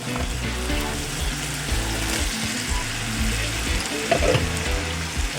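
Potatoes sizzle and fry steadily in hot oil in a pan while a mixed vegetable sabzi with red cabbage cooks, the crackle continuous and close with brief stirring clatter near the end.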